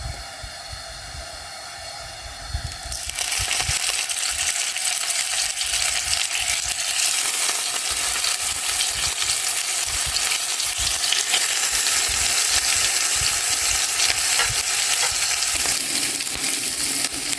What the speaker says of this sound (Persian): روغنمون که داغ شد شروع میکنیم به سرخ کردن مرغ‌ها.